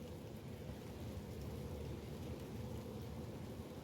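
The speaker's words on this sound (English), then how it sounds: "But it's raining." Steady rain pouring down outdoors in a garden, a dense, even hiss of drops with no talk, constant and fairly loud throughout.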